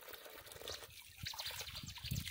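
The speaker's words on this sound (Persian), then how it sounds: "چشمه زلیخا" Water trickles and burbles continuously from the Zulaykha spring, a close, steady outdoor splashing with fluttering bright textures throughout and no voices.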